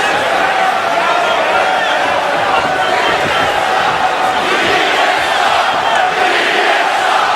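A loud, dense arena crowd roars and cheers continuously during a UFC fight between Nate Diaz and Marcus Davis, a steady wall of cheering with fighters' commentary faintly beneath.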